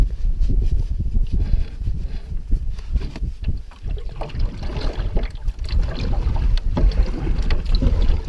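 Paddles dip and pull as a canoe moves along a river in remote Temagami wilderness, with irregular splashes and water swirls under steady wind buffeting the microphone.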